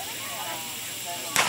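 A starting pistol at a girls' high school 5K race fires one sharp, loud crack near the end, after a quiet stretch of low outdoor murmur.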